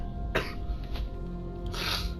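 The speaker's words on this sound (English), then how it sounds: "Sorry for all my coughing. I've got a really bad cold" A person with a bad cold lets out two close, harsh coughs, separated by a faint throat sound, over a low steady background hum.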